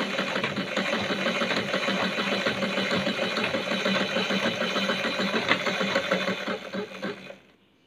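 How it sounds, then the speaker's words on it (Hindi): A picco sewing machine stitches a small piece of fabric, a steady, fast mechanical whirring rattle that runs close and moderately loud before cutting off abruptly at the end. "अब हम छोटे से कपड़े को इसमें इस तरह से फिक्स करेंगे और इसकी हम स्टिचिंग करेंगे।"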